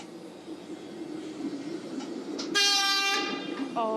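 A Helsinki city tram passes along the street rails amid distant urban rumble, then sounds a loud tonal horn or bell blast near the end.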